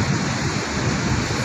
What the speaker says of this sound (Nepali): तल देखिएको चाहिँ भेरी नदी हो